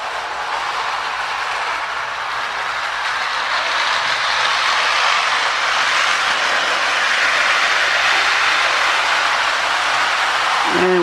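Restored Ives 1120 toy train circling its track, a steady whirring rumble with faint clicking of wheels that grows slightly louder as it passes close by.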